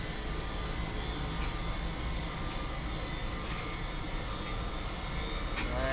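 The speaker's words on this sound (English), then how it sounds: "Hear the engine starting up." Airbus A320 jet engines spooling up during startup in Microsoft Flight Simulator, a steady, loud broadband roar with a faint whine that holds throughout, no voices over it.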